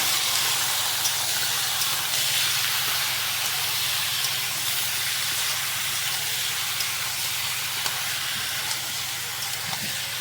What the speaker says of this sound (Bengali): এবার মাংসটা দিয়ে দিলাম ভালো করে নেড়ে নেবো